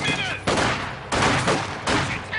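Bursts of machine gun fire during a Company of Heroes 2 battle, three loud sustained volleys each cut off abruptly, separated by brief gaps of quieter battlefield noise.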